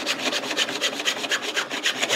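A hand saw cutting wood to marked lines while building a mitre box, rapid even back-and-forth rasping strokes, close and loud, with no talking.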